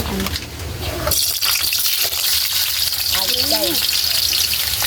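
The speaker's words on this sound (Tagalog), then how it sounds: "i-prito pala natin yung carrots" Steady loud sizzling of carrots frying in hot oil fills the clip, with a sharp rise in hiss partway through and brief chirpy sounds near the end.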